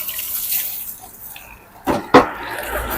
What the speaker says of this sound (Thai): เทน้ำออก